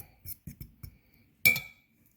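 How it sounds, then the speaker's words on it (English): A utensil mixes table salt into dry pie crust ingredients in a bowl, giving a few quiet clinks and taps against the side, followed by one sharper, ringing clink. "We can just kind of mix that together a little bit."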